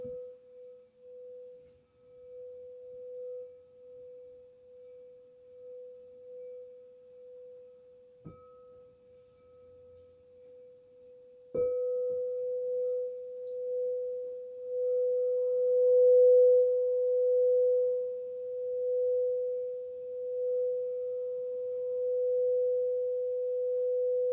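A crystal singing bowl rings during a gentle yin chakra-clearing session, a pure sustained tone held steadily for over twenty seconds, with a soft strike partway through that briefly brightens and swells the ringing.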